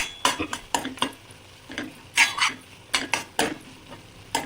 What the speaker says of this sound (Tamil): இது ஆற்றுல வச்ச சாம்பார் பொடியை போட்டு நல்லா இதையும் சேர்த்து வதக்கிக்கோங்க எல்லாத்தையும்